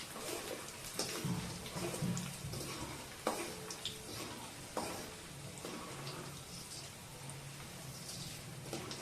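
Garlic frying in a pan while making a quick tomato chutney, giving a steady close sizzle with occasional stirring scrapes and clatter, no talk over it.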